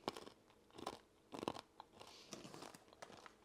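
Close, crisp crunching bites of a hard chocolate and nut snack, several bursts in a row followed by quieter chewing, with no talking.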